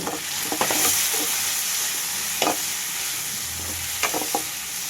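Tomatoes and brinjal frying in a pan for an old-style curry, a continuous close sizzle with intermittent scrapes and taps of a spatula stirring.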